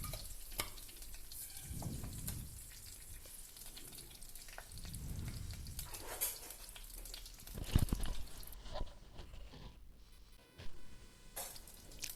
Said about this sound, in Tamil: கடுகு பொரிஞ்சதுக்கப்புறமா சீரகம் ஆட் பண்ணிடலாம்